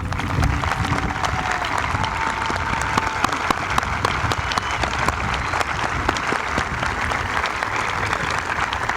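Sustained applause from a large commencement audience honoring the K-12 staff of Coldwater Community Schools, a dense steady wash of many hands clapping at even loudness throughout, no voices standing out.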